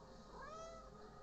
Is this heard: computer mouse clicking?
no